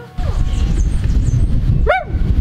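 A person imitates a dog barking during children's pretend play, a couple of voiced yips with rising and falling pitch, close and loud over a low rumble.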